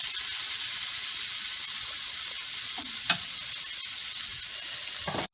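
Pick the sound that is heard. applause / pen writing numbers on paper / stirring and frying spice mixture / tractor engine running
stirring and frying spice mixture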